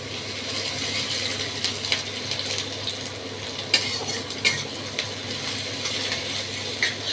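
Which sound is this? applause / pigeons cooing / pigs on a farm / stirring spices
stirring spices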